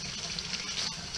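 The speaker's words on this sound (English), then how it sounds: "Take my water and put it in here." Water pours steadily into a measuring cup in a kitchen while chili is being made, giving a continuous, close, soft splashing trickle with no talk.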